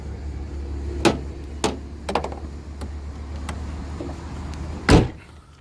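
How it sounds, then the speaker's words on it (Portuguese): The door of a Peugeot Expert cargo van closing: a few light clicks and latch knocks, then one solid slam near the end against quiet surroundings. "Vamos fechar o carro aqui pra gente ver o carro melhor."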